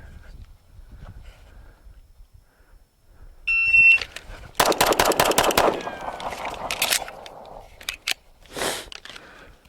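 A timer beep, then a Sig Sauer P365 pistol fires a quick bill drill: a tight, rapid string of loud close shots, followed by a few scattered later reports.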